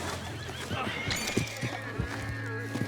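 Horses neigh and whinny in Red Dead Redemption 2 gameplay, with hoof clops and other game sounds over a steady low hum, while voices speak intermittently.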